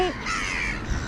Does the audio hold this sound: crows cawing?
yes